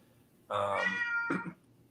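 A house cat gives one clear meow lasting about a second, then a shorter second call, both close and alone against a quiet room.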